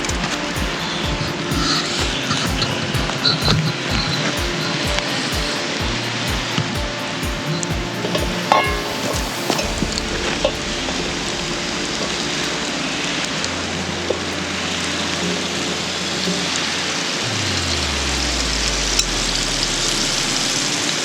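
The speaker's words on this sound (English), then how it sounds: "She's sizzling away." Brined chicken sizzles steadily in a camp oven over a campfire, a dense crackling hiss that carries on throughout with low rumbles underneath, close by.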